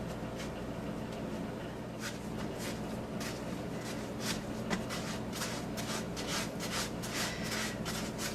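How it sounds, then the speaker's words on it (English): Sticky soda bread dough being shaped into a ball by hand on a floured board, giving a steady close rubbing and patting with soft repeated pats and smears, alone without talk. "now we're just gonna form this into a ball"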